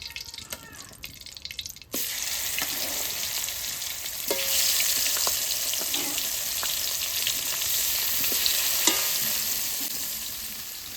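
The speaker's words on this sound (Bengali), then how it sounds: "মাছটা আমি হালকা ভেজে নেব, আর ভাজবো না।" Koi fish fry lightly in hot oil in a home kitchen, giving a steady, close sizzling hiss that jumps louder after a soft opening, with occasional light clicks and stirring taps.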